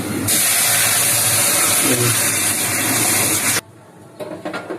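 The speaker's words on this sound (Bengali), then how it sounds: "হ্যাঁ, বাগার দিয়ে দিচ্ছি।" Hot oil tempering (bagar) is poured onto chicken dal, setting off a loud, close, steady hiss that cuts off abruptly after a few seconds, followed by faint clatter.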